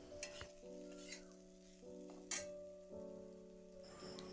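Spices fry for a sour Tripura-style drumstick vegetable curry while being stirred in a pan, a soft sizzle under scattered scraping and clinking strokes, close and fairly quiet.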